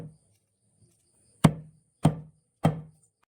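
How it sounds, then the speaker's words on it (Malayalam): Dried red chillies pounded with a pestle for a ripe mango chutney: three sharp, close thuds about half a second apart, each with a short dull ring, and no other sound between them. "മുളക് നമ്മൾ ചതച്ചെടുക്കുവാണ്"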